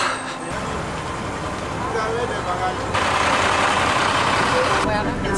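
A bus pulling in at night in Burkina Faso, its engine a steady loud rumble with road noise that swells partway through, voices talking over it.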